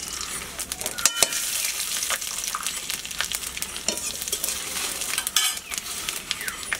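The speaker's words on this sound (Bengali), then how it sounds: "দিয়ে দিচ্ছি সর্ষের তেল, ফোড়ন দিয়ে দিচ্ছি শুকনো লঙ্কা" Dried red chillies crackle and sizzle in hot mustard oil, a steady close frying hiss with sharp pops and an occasional clink of a utensil against the pan.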